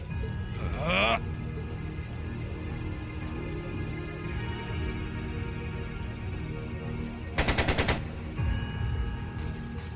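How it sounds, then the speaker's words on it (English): Machine gun fire in the role-playing game Trails of Cold Steel II: a brief rapid burst early on and a second short, loud rattling burst later, over steady background music and ambience. "It sounded like a machine gun."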